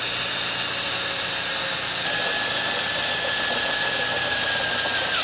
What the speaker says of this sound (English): There's our hole drilled.